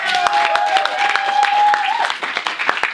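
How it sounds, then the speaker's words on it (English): A self-defence class breaks into a round of applause for a student named Phil, with steady clapping from a group filling the room alongside a sustained tone and some voices. "Round of applause for"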